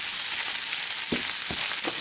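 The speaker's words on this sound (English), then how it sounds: "fry that up" Mashed-up fish fries in a pan with a steady, close hiss of sizzling oil, broken now and then by soft thumps and scrapes of stirring.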